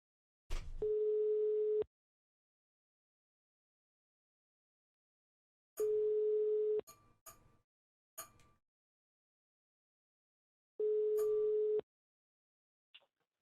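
A steady telephone dial tone while placing a call, sounding in three separate one-second beeps with long silent gaps between them, clear and alone apart from a few faint clicks.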